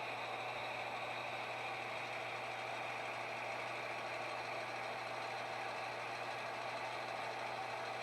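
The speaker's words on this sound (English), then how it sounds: "Now we put the engines in reverse and haul off to the right." HO scale model train engines backing a string of cars along a layout track, a steady low motor hum with a constant mechanical drone and faint rolling noise, no talking.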